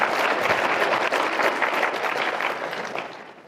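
Audience clapping at a bar association recognition luncheon, a dense, sustained round of applause from a room full of people that fades out near the end.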